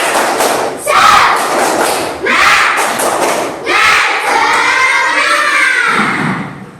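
Standing classroom children in a maths lesson do a rhythmic clapping chant, loud sharp claps and thuds in regular groups mixed with shouted chanted words, repeating over several phrases.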